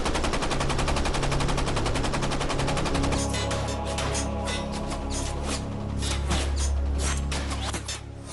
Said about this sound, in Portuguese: O Hayasaki dispara no Growler com todas as metralhadoras que tem disponível e está alvejando o convés.